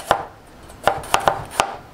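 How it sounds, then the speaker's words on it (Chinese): A knife slicing garlic cloves on a cutting board, five sharp close taps at uneven intervals, loud and clear with no talk. "一个大蒜切成蒜片"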